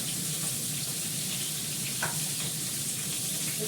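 Potatoes fry in a pan of hot oil with a steady, close sizzling hiss and faint crackles, and a brief stir partway through.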